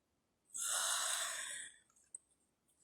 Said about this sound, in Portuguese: Eu tenho que puxar o ar, eu tenho que inspirar profundamente e erguendo o palato mole